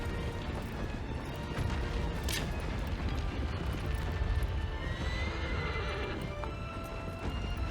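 A horse in the video game Shadow of the Colossus, its hooves clip-clopping steadily at close range as it gallops, with a whinny and creaking mechanical sounds over a constant ambient wash.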